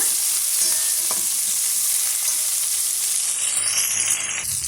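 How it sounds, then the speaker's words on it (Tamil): Curry leaves and onions fry in a pan for a ladies finger tamarind curry, giving a loud continuous sizzle with a few faint stirring clinks and no voices. "இப்போ கருவேப்பிலை ஆட் பண்ணிக்கலாம். இதையும் சேர்த்து நல்லா வதக்கி விட்டுக்கலாங்க."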